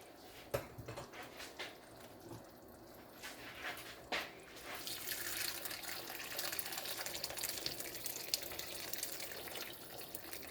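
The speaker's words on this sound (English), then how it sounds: "So let me add some water and then I'll cover this with a lid." Water poured into a pot of braising lamb shanks, beginning after a few scattered knocks and clatters, then a steady, fairly loud rushing splash that fills the last half.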